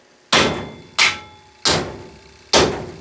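A brass hammer pounds a brass blowtorch part clamped in a vise, striking four sharp, ringing metallic blows at a slow, slightly uneven pace, each one loud and close and fading quickly.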